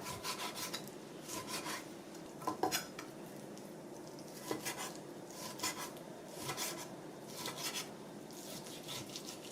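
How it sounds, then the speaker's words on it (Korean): Knife slicing beef brisket on a cutting board, a steady run of soft scraping, rasping strokes with light clinks of the blade, close and fairly quiet, no talking. "고기를 썰어 보겠습니다. 이 고기는 양지예요."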